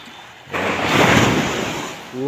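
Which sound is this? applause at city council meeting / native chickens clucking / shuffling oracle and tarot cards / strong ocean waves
strong ocean waves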